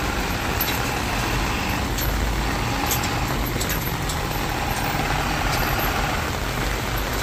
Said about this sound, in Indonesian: Truk Puso Fighter X ya bosku.